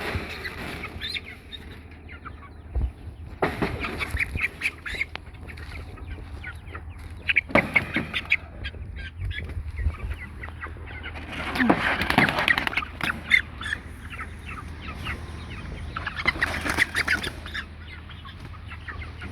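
Young meat chickens and a small black silkie chick cluck and peep in scattered bursts inside a grow-out pen, layered over a steady low hum, with occasional quiet talk.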